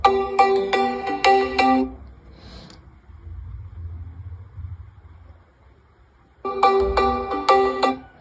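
A melodic ringtone plays loudly from the speaker of a Realme Note 60X phone, a bright repeating chime pattern that stops, leaves a low hum for several seconds, then starts again.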